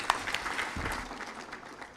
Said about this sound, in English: You clap properly.